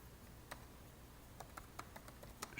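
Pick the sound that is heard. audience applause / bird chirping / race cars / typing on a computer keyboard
typing on a computer keyboard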